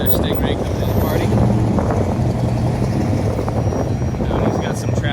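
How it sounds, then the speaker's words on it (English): Loud cars departing a Cars and Coffee gathering, a continuous broadband engine rumble with some wind buffeting, steady and close throughout. "it's starting to sound like a Cars and Coffee event with loud cars departing"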